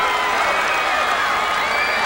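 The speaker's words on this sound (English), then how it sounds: "this knowledgeable crowd is giving her all the encouragement she could need" A large crowd cheers and roars continuously for a runner nearing the finish at a 1994 girls' high school track and field state final, loud and close, with a commentator's voice mixed in.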